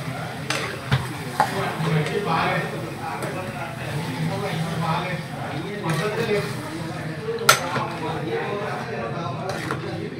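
Chicken liver frying with turmeric and salt in a pan, a soft sizzle with intermittent scraping and clinks of a stirring spoon, while a voice talks over the cooking.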